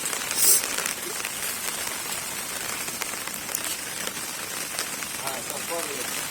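Steady rain patters on a plastic sheet rigged over a rooftop, a constant wet hiss with scattered louder drops and a brief sharper hit near the start, no talking.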